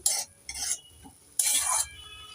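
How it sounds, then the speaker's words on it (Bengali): Mustard greens cooking with eggplant are turned in a pan in three short, close scraping strokes, the last one longest, with quiet pauses between and no talking. "এবার ঢাকনা খুলে দেখব একটু নেড়ে চেড়ে দিয়ে দেবো"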